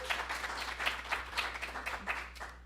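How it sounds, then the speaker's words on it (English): A crowd of supporters gives a steady round of applause at a farewell finale event, a dense wash of many hands clapping at moderate distance, fading slightly toward the end. "So just a round of applause for all of the Trehon's Time supporters out there."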